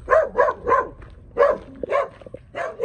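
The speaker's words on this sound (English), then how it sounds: "Sadly, that's the dog that lives on a chain." A chained farm dog barks repeatedly in quick bursts of two or three, loud and close, with short pauses between.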